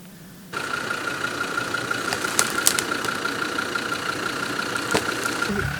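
A Land Rover Defender engine starts up abruptly and keeps running at a steady mid-pitched idle-like rumble, close and continuous, with a few brief clanks partway through; no voices.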